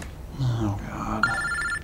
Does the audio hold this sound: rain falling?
no